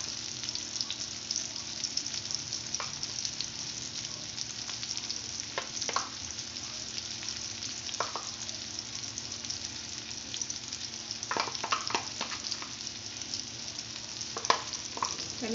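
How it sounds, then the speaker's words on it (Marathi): Stuffed bitter gourds (karela) fry in oil with a continuous soft sizzle, with occasional light clicks and scrapes of a utensil in the pan. "आणि छान त्यांना म्हणजे फ्राय करून घ्यायचं तेलामध्ये."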